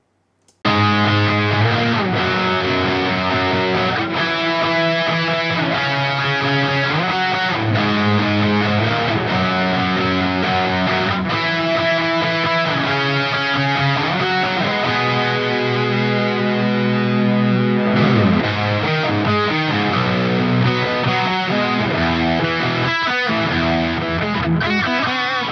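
Distorted electric guitar runs through a Heritage Audio Successor bus compressor, a dense, sustained rock part with chords and riffs that plays steadily and loud for the whole stretch, with no talking.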